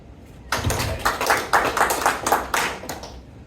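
An audience at a comedy show held at Carl R. Darnall Army Medical Center answers with a burst of clapping, starting suddenly and continuing as moderately loud, uneven hand claps for about three seconds.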